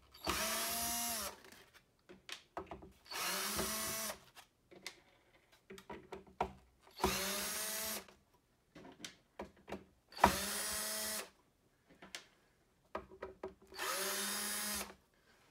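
A cordless power drill backs screws out of a panel in short, evenly spaced whirring bursts of about a second each. Small clicks fall between the bursts, and there is no talk.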